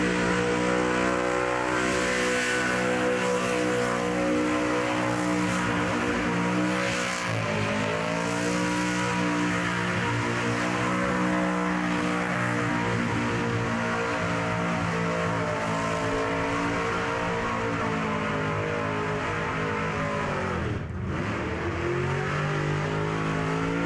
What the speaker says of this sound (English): VF Commodore Ute now. War Speed LS with the blower on top, of course.